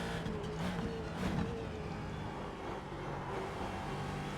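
Ford GT2 race car in iRacing at Oulton Park, a steady engine drone with tonal whine that holds throughout, with a brief surge and faint tyre scrub early on, no talk.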